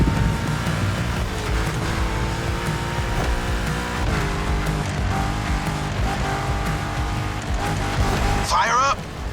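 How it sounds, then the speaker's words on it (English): A supercharged V8 American muscle car roars in The Crew Motorfest racing game, a loud sustained engine drone with shifting pitch and a brief tire squeal near the end, while a commentator talks over it. "Now you can let the supercharged V8 do the talking"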